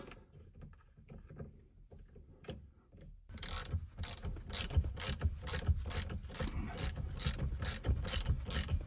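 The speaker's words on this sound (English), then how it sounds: "And go ahead and install our bolts." Ratchet tightening bolts while a steering wheel is installed on an Audi RS5 B9.5, a quiet stretch of handling noise first, then steady rapid clicking strokes close by that continue to the end.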